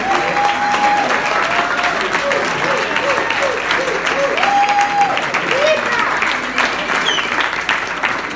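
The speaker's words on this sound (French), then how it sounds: "est-ce que vous pouvez simplement vous lever, on va vous applaudir" Sustained audience applause after a call for new instructors to stand, dense and steady for about eight seconds, with voices and cheers mixed into the clapping.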